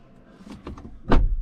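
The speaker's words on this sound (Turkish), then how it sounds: "kapıyı açıp kapattığınız zaman" A 2024 Volkswagen Tiguan car door being worked close by: faint clicks and rattles of the latch, then a solid, low thud as it shuts.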